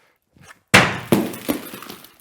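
A brick or concrete chunk thrown at a tempered glass test sample strikes with one loud, sharp crash, then two smaller clattering knocks follow as fragments bounce and settle, with no voices.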